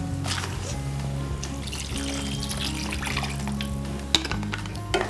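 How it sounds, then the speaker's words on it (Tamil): Water is poured into a pan of tamarind curry with sweet potato and bitter gourd, a quiet steady trickle and splash with a low hum and a brief clink near the end, no speech. "புளியோட தேவையான அளவுக்கு தண்ணி ஊற்றிக்கலாம்."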